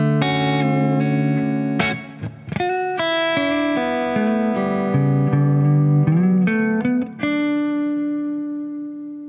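A microtonal electric guitar with effects plays a slow melodic line of sustained, bending passing tones and chords, ringing out into a long decay.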